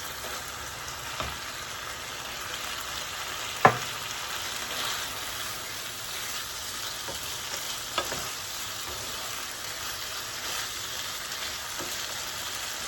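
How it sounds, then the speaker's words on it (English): A medium yellow onion goes into a frying pan for a Tex-Mex casserole, bringing a steady, fairly quiet sizzle with occasional stirring clicks and scrapes of the utensil against the pan. "now we're going to put in a medium yellow onion"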